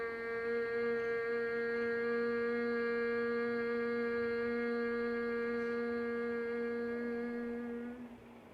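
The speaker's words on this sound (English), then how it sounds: "Inhale and exhale with the humming sound." A group hums steadily on the exhale during a yoga breathing exercise, one sustained, even tone held for about eight seconds before fading out, with no talking.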